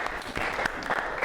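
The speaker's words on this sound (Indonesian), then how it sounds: "beri tepuk tangan dulu untuk Rasel." Classroom applause for a student at a senior high school in Bogor: a short, dense burst of many hands clapping together, steady and fairly loud throughout.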